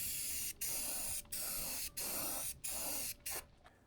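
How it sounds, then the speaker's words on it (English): Spray paint hissing onto metal L brackets for mounting RV solar panels, six close bursts of steady spraying separated by brief pauses. "I'm going to spray paint my L brackets that are going to hold the solar panels down."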